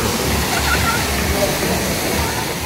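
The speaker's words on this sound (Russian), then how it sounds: "водопадики." Steady rushing water from small cascades at a water park in Alushta, Crimea, splashing nearby, a continuous broadband roar with people talking underneath.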